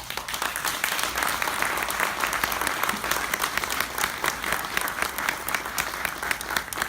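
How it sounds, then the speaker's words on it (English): An audience at a junior police academy graduation in Spotswood claps steadily and loudly throughout, a dense, even wash of applause. "we want to give you guys a round of applause for your hard work"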